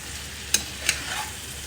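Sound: vegetables and dried fish frying and being stirred

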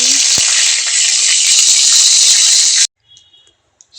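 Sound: dry red chillies and whole spices sizzling in hot oil

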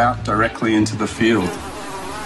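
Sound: swarm of genetically modified mosquitoes buzzing in cages

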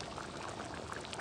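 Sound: pouring cream into chickpea curry

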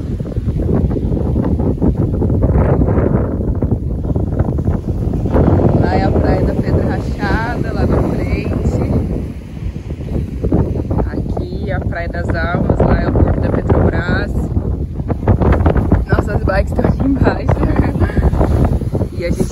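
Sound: wind on the dunes at the beach

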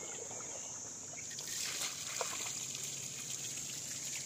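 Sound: water flowing from a solar-powered borewell pump

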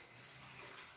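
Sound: boiling water poured over pasta in a jar

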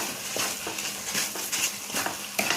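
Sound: grated carrot and chana dal being roasted in ghee in a pan

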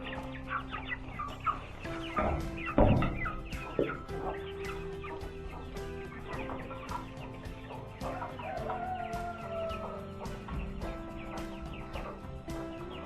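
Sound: Sebright bantam chickens clucking while eating

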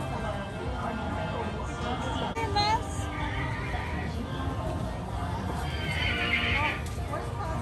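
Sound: horse neighing and galloping sounds on LEGOLAND joust ride

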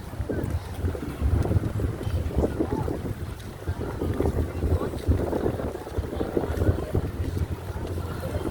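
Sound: strong wind

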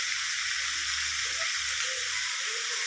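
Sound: papaya and carrot added to sizzling chicken stew pan

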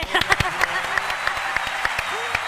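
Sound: audience applause

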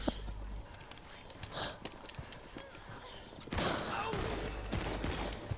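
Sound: gunshots in video game Red Dead Redemption 2

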